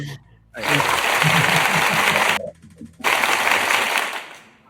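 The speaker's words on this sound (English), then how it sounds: "That deserves actual applause." Dense, hissy applause fills the air in two bursts separated by a brief gap, loud and close like a canned applause effect.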